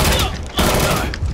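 Loud, close bursts of gunfire from a sniper firefight in a Hindi-dubbed action movie, dense rapid shots filling the whole moment with a brief gap midway.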